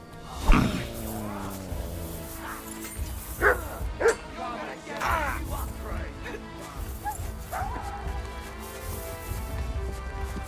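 A dog in the Kingdom Come Deliverance II video game barks and yips in several sharp bursts with some whimpering, mixed with a voice talking.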